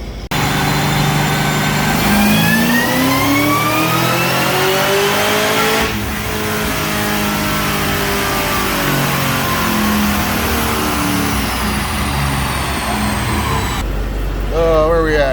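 A Cadillac CTS-V with a stock engine making over 800 horsepower roars through a dyno pull, its loud sustained exhaust note climbing steadily in pitch, briefly dipping midway, then cutting off abruptly near the end.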